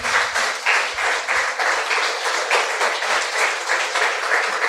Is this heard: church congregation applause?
yes